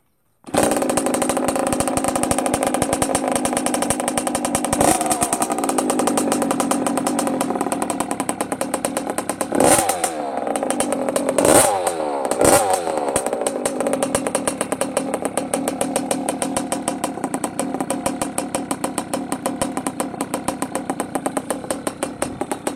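A small kick-started pit bike engine fires up and runs loudly with a buzzing, high-revving idle, with a few sharp throttle blips partway through.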